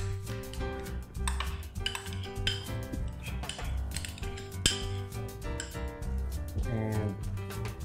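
A spoon stirs garlic and yogurt together in a bowl, making repeated irregular clinks and scrapes against the dish close by, with steady tonal music playing underneath.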